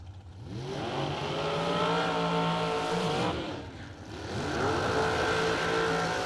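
Drag racing cars roll through the water box at a quarter-mile event, engines revving in two loud rising and falling bursts with a brief dip between them.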